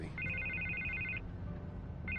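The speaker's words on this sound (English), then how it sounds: "I can't get the phone to stop ringing" A telephone rings in the Batman Telltale game, a bright trilling electronic ring lasting about a second, a pause, then the next ring beginning, over a low ambient rumble.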